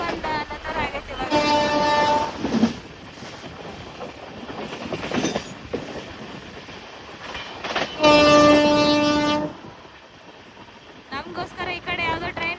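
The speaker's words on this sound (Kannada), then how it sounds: "ಆಂಕಿಂಗ್ ಹೊಡಿತಾನೆ ನೋಡಿ ಈಗ, ಯಾವ ರೀತಿ ಹೊಡಿತಾನೆ ಅಂತೇಳಿ" A passenger train on the Bengaluru to Mumbai line rumbles past, its loud horn sounding in two long blasts over the steady clatter of the wagons, with people talking nearby.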